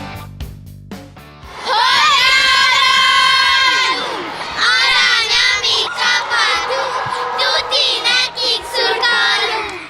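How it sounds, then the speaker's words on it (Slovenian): Hungarian fans at a Fireball tournament in Lenti let out loud, sustained shouts and chanted cheers, a dense crowd roar that surges in repeated waves with high children's voices mixed in. "Takole zvenijo spodbudno navijaške besede pri naših vzhodnih sosedih."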